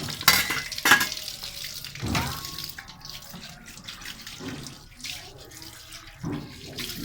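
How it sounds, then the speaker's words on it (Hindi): Breakfast dishes are washed under a running tap in a village home on a winter morning, with intermittent bursts of running water, clinks and scrubbing at close range, rising and falling over several seconds. "ये साफ़ हो रहे हैं नाश्ते वाले बर्तन"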